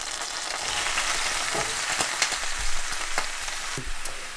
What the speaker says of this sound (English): Okay, so we have about 3 tablespoons of oil in each one. I'm going to go ahead and add my vegetables.